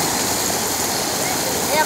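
Water rushes in a steady, loud roar as it spills over a small overflowing dam (açude) in Brazil after heavy rain. The broadband sound holds constant for the whole short stretch.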